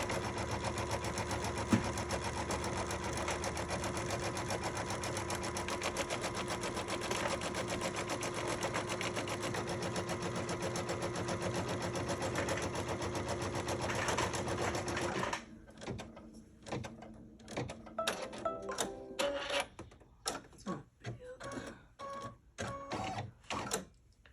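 An embroidery machine stitches a quilt block in a long, dense, steady run of fast mechanical chatter, then switches to a slower, choppier stretch of separate stitch bursts and pauses.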